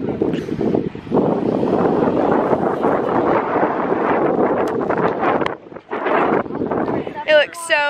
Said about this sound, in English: but it is so windy and cold.